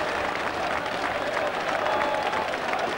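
Rugby league crowd at a Workington Town match in 1992-93 roaring and clapping after a try, a dense, steady wall of cheering and applause filling the whole stretch without pause.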